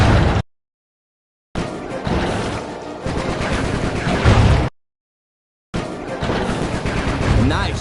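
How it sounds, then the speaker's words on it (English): Bentley's gunfire in Sly 3 on PS4, loud sustained bursts of rapid shots filling two long stretches and a shorter one, broken by abrupt silent gaps. "Nice shooting, Bentley."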